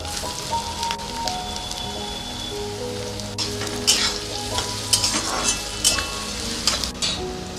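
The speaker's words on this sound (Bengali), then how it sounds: "এবার গাজর কুচানোগুলো দিয়ে দিচ্ছি।" Chopped carrots hitting hot oil with curry leaves and chopped ginger, a steady loud sizzle and crackle with scraping stirs throughout, close up and with no talking.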